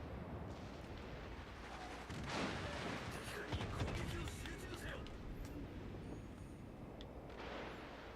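An enemy ship fires HE shells in the naval game World of Warships, with booming gunfire and distant blasts that swell and fade under a steady background roar while someone talks faintly.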